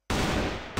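A single loud gunshot in a first-person shooter video game, Assault Fire, bursting sharply and ringing out over almost a second before cutting off.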